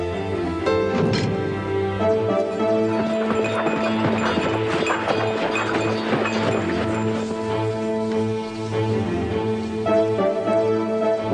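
Horse hooves clip-clop in a steady, close rhythm, with occasional whinnies, under a continuous layer of dramatic orchestral music.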